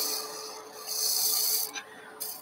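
A wood gouge cuts pine turning on a lathe, a steady close scraping rasp that swells and eases with the pressure of the tool, with a couple of brief breaks, no voices.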